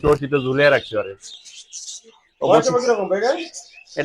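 Pet birds at a bird shop selling Gouldian finches, cockatiels, lovebirds and parakeets give high, quick chirps, heard clearly in a short pause between stretches of someone talking close by.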